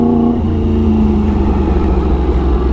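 A 2016 Yamaha R1 60th anniversary motorcycle engine braking, a steady close mid-pitched rumble with harmonic tones shifting as revs fall, loud and continuous with no talking.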